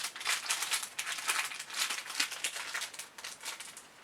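Crinkly wrapping being torn and rustled off a gift tube of verbena and citrus body scrub, a steady run of close, dry crackles and papery rustles with no voices.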